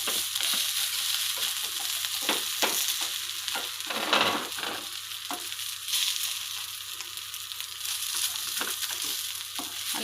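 Uthappam sizzles in oil on a hot pan, a steady close frying hiss broken by scraping stirs and spatula knocks, with no voices.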